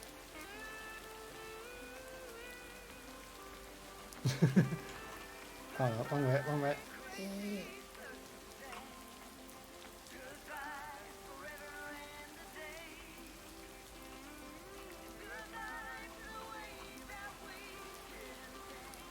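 Soft rain patters steadily by a lake under layered game music, with someone briefly talking over it.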